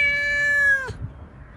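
A domestic cat gives one sustained, tonal meow that ends abruptly, close and fairly loud, followed by faint low background rumble.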